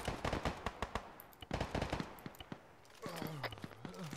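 Video game gunfire rings out in rapid bursts of sharp, loud shots with short pauses between volleys, followed by a voice talking over fainter shooting.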